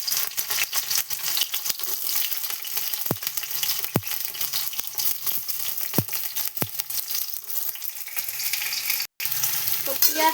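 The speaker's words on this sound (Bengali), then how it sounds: "তো সবার আগে দিচ্ছি আদরক, তারপরে দিচ্ছি পেঁয়াজটা" Ginger and onion frying in oil for a tadka, a loud continuous sizzle close by with repeated knocks and scrapes of a spatula stirring in the pan.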